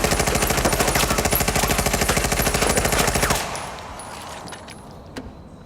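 Sustained rapid machine-gun fire rattles loudly and evenly for about three seconds, then cuts off into a fading echo with one faint later pop.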